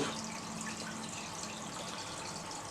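Liquid water conditioner poured into a home aquarium, a soft continuous trickle and splash of flowing water, faint and steady with no talk.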